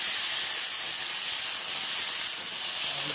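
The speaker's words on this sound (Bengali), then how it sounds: "এটাকে ভালো করে আমি নেড়ে চেড়ে নিই" Chutney with yellow turmeric being stirred in a hot pan gives off a constant, steady sizzling hiss from start to finish, close and moderately loud, with no talk.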